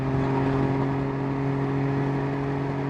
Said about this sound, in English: Boy, that pipe is loud. That is a very loud pipe.